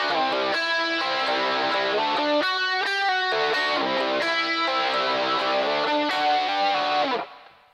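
Electric guitar plays a dense, distorted lead passage from a solo, steady and loud with fast notes throughout before cutting off sharply near the end, no talking.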